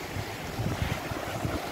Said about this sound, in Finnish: niin kuin yleensä niin Kilpisjärvellä tuulee